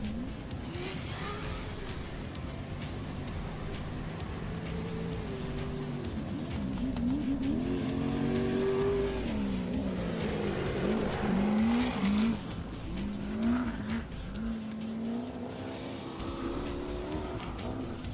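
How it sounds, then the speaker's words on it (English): A big, heavy 4400-class race car at the NORRA Mexican 1000 desert rally drives past, its loud engine roar rising and falling with shifting pitch over about eighteen seconds, with some tire noise along the way. "Up next here is Another 4400, another big heavy car. Jason Shipman."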